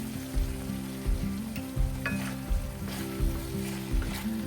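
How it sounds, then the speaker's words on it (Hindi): Spices, Kashmiri red chili and black pepper, frying with bell pepper in a pan, giving a steady sizzle with a rhythmic stirring scrape about every second and a low hum underneath. "मसालों को अच्छे से मिक्स करने के बाद थोड़ी देर भूनने देंगे"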